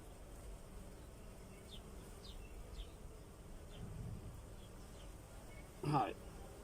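Honeybees crowd a hive frame in a strong, active colony, producing a steady soft drone with occasional louder individual buzzes passing close, and a brief louder bump near the end.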